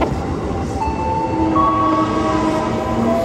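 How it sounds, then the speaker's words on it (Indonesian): A train rumbling loudly past the Karet station level crossing in Jakarta, with a continuous rolling roar and squealing wheel tones close by, no voices. "Sementara kita menunggu kereta ini lewat"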